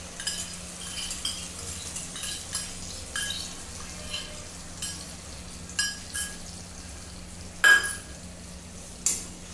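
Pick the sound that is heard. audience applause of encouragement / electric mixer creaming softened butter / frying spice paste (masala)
frying spice paste (masala)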